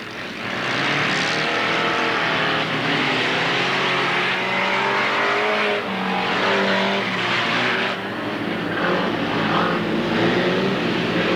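Banger racing cars in a contact-formula race at Alwalton Raceway in 1983 roar continuously at close range, with engines revving and droning over one another throughout.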